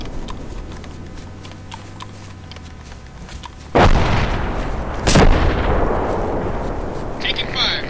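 Gunfire crackles through a war video game battle with a tower and bunker, a few sharp loud bursts standing out over a steady background din of combat.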